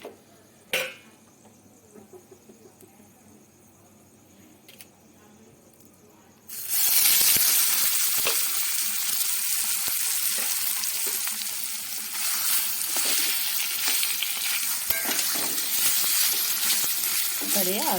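After a few quiet seconds with a light clink, mashed figs hit hot mustard oil and erupt into a loud, sustained sizzle that keeps crackling close up, with occasional stirring scrapes.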